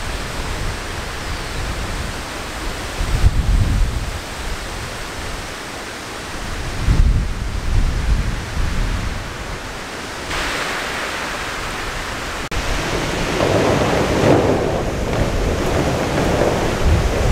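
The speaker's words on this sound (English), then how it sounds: "That sound, it's not thunder, that's our coverall flapping." A tarp-like coverall flaps and booms in strong summer storm wind, heard as heavy gusting roar with several loud, thunder-like whumps. The sound is close, continuous and without talk.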